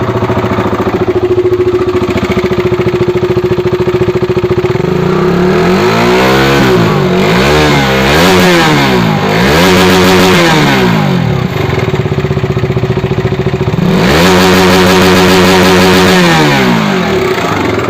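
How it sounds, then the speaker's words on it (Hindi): A KTM Duke 200 motorcycle engine runs loudly up close, idling then revving up and down repeatedly, with a rough, noisy rattle throughout. "ये बाइक स्टार्ट हो गई है और इसमें किस तरीके का साउंड आ रहा है"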